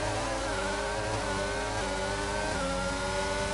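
The on-board McLaren race car engine in a racing sim at Imola drones at high, steady revs with a slight wavering pitch, loud and continuous, with no talk over it.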